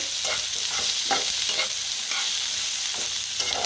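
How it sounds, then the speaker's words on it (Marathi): A tomato roasts in a hot pan, sizzling steadily and close up, with a spoon or spatula stirring it in a few soft, repeated scrapes through the frying hiss. "1 टमाटर वापरलेला आहे। त्याला भाजून घेऊया"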